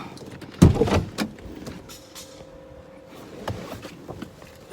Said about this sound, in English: Let me open my door.